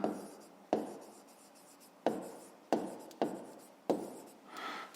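Chalk or marker strokes on a board while working a fifth-grade maths exercise, six sharp scratching bursts spaced about a second apart, each fading quickly, close and fairly quiet with no talking.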